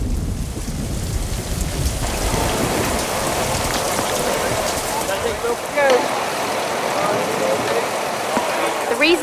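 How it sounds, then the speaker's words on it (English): Heavy rain pours steadily outside a film set tent, a dense loud hiss drumming on surfaces throughout, with low rumbles and occasional faint sounds mixed in. "it's raining cats and dogs outside"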